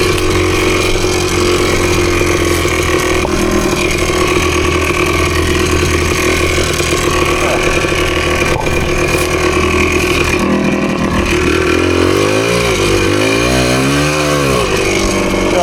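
A PE250 dirt bike engine snarls steadily near and loud while climbing rocky, rooty trail ground in first gear, its pitch rising and falling in sharp revs toward the end.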